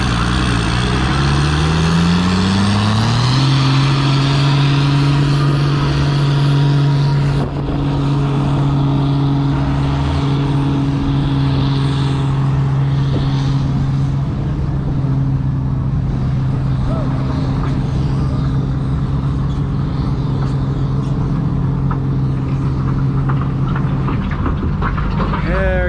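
A Farmall 560 tractor in a tractor pull at a spring event in Lynden drones loudly under heavy load, its engine pitch climbing and then holding steady for a long stretch as an announcer talks over it.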